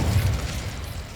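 An Incendio fire spell is cast in the Hogwarts Legacy video game, a brief, dense, low rumbling whoosh that holds steady and loud for about a second with no voices.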